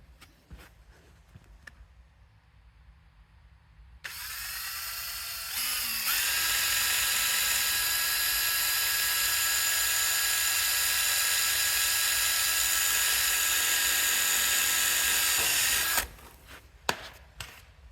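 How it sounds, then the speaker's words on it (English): A power drill bores a hole into a splitter in a workshop, spinning up with a rising whine, then running at a steady high-pitched buzz for about ten seconds before cutting off, with a few clicks and knocks around it. "I'm gonna drill that hole in the splitter to line up with that."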